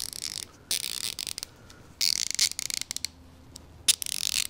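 A motorcycle mechanic's socket ratchet clicks in quick bursts of fine, close metallic ticks, several short runs separated by pauses, with no talking.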